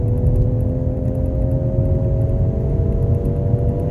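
A steady low engine drone with a throaty turbo exhaust rumble as a 2019 Ford Edge ST accelerates, heard close and continuous.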